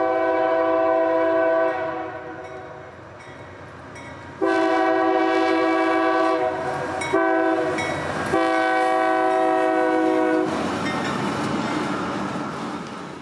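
CSX L781 freight train led by a heritage locomotive painted for the Nashville, Chattanooga and St. Louis Railway, its horn blowing loud, repeated sustained blasts close by over the rumble of the passing train.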